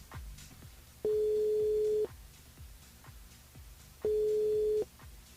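A telephone ringback tone sounds during a radio phone-in call, two steady one-second beeps about three seconds apart over quiet background noise.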